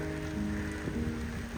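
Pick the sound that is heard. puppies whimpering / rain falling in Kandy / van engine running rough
rain falling in Kandy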